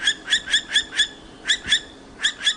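A female owl guarding her nest box in Norway calls threateningly in rapid bursts of sharp, high, repeated shrieks, close and clear with no other sound.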